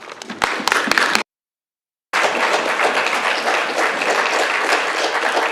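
Applause breaks out in a council chamber during a meeting, a burst of dense clapping that stops abruptly, then a second, sustained round of steady, loud clapping from the gathered audience.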